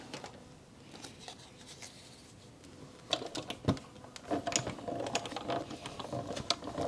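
A hand-cranked die-cutting machine feeds a folded box through its rollers, giving soft ratcheting clicks and clacks that grow louder and busier partway through, close by with no talk.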